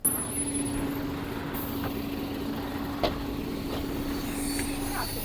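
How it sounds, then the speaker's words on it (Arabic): A city bus in Italy pulls up to a stop, its engine a low, steady hum with a brief hiss of air brakes and faint traffic in the background. "الحمد لله الباص اتأخر شوية بس وصل يعني أخيرا"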